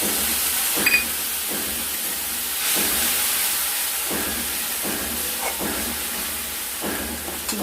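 Bowl-rinse water splashes onto hot spices in a pan while cooking banana flower with potato and pointed gourd, producing a loud, steady steaming hiss broken by repeated scraping strokes of a spoon.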